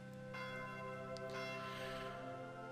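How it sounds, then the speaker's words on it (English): A bell clangs in the Fire Emblem Echoes: Shadows of Valentia video game, sounding as repeated, fairly quiet metallic tolls that ring out over a sustained tonal background. "why are they clanging that infernal bell?"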